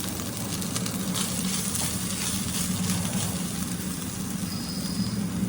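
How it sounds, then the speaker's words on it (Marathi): Fresh wet grated coconut roasts in a pan with dry fruits and golden-brown potatoes, giving a steady close sizzle and frying hiss under a low background hum that runs throughout. "याच्यामध्ये खोबरं टाकायचंय ओलं खोबरं"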